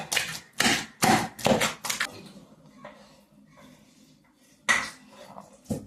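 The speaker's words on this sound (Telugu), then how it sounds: "ఇదిగోండి ఇలాగైతే మొత్తం దంచేస్తాను అంతా" Raw green tomato chutney is pounded in a stone mortar with a series of sharp, hollow thuds, five quick strikes followed by a pause and then a single later blow, close and clear.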